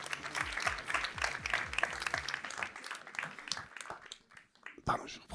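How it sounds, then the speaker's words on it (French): An audience applauds at a customer satisfaction award ceremony, a full burst of close, dense clapping that thins and fades after a few seconds, with a voice speaking over it on a microphone. "Sous vos applaudissements, mesdames, messieurs."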